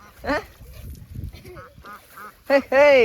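Loud, harmonic honking calls from a duck or goose ring out at the start and again near the end, between quieter mixed voices and background noise.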